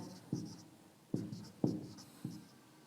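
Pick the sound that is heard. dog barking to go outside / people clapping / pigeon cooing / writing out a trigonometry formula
writing out a trigonometry formula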